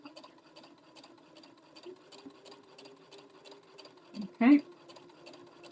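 Sewing machine stitching a quarter-inch quilt seam over a basting stitch, a soft steady rhythmic whir with a brief louder burst near the end and a short spoken word.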